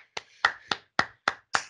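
One person claps close to the microphone for an online audience applauding a speaker, six evenly spaced sharp claps in quick succession with silence between each.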